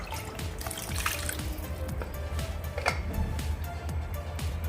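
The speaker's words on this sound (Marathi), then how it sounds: "या कुकरमध्ये अर्धा ग्लास पाणी घालूयात" Half a glass of water is poured into a pressure cooker holding cooked greens, making a steady close trickle and splash with small drips, alone without talk.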